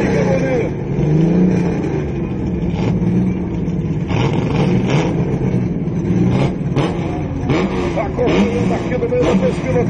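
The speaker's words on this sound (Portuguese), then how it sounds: "poder ouvir os motores 6 cilindros" Six-cylinder drag racing car engines rev and roar at a steady high pitch at a drag racing event, with a crowd and a commentator's voice audible underneath.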